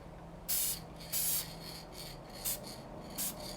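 A varnish-smelling coating spray is misted onto marker-colored artwork in four short, hissing aerosol bursts with quiet pauses between them, close by and alone.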